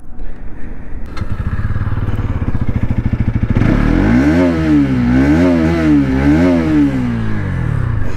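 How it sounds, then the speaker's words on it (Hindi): A Bajaj Pulsar NS 200 motorcycle idles with a rapid, throbbing underbelly exhaust, then revs up and down several times in rising and falling bursts, loud and close. "सबसे पहले हम NS का एग्जॉस्ट सुनते हैं।"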